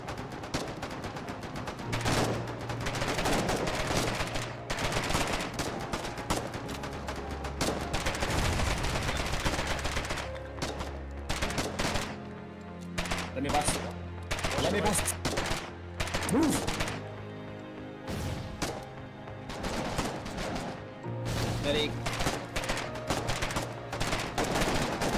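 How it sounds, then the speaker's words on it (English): Field machine gun fire in the trench-warfare game Foxhole, dense bursts of rapid shots and explosions that continue almost without pause, loud and close. "Oh, we got a field machine gun up ahead."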